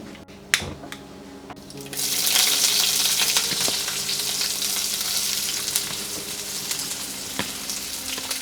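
Onions, garlic and cinnamon bark hit hot oil in a pan for a Sri Lankan kohila ala curry, a few sharp clinks giving way to a loud, steady sizzle that keeps going close up.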